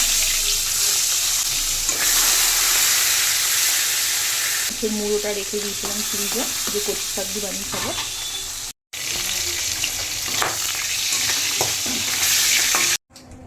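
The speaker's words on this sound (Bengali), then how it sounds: "এই মাছ ভাজার তেলেই ইলিশ মাছের মাথাটা ভেজে নেব।" Hilsa fish head frying in hot oil already used to fry fish, a steady broadband sizzle throughout with someone talking over it partway and brief dropouts.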